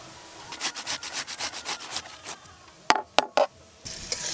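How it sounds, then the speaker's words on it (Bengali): Raw bhetki fish pieces are worked by hand in a paste of salt, turmeric, cumin, coriander, dried chili powder, ginger-garlic paste and mustard oil, giving quiet, close, rhythmic rubbing strokes followed by a few sharper wet slaps. "প্রত্যেকটা মাছের পিসে খুব ভালোভাবে মশলা মাখিয়ে নেব এইভাবে"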